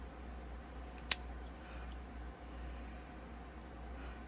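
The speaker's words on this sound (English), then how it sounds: "you can just snip it with a pair of scissors" A single quick scissors snip trims a thin sliver of excess cured UV resin from a flower keychain charm, one sharp click standing out against a quiet room hum.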